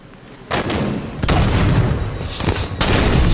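Loud gunfire from the Halo 5 video game during a one-on-one match: a few sharp, booming shots at uneven intervals, backed by a dense rumble of game noise.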